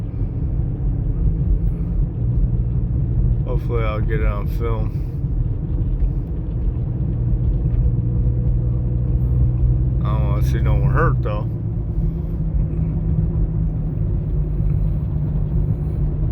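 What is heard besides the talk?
leaning box truck driving and turning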